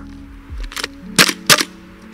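An MWS gas blowback airsoft replica rifle fires two sharp, loud reports about a third of a second apart, following a lighter mechanical click.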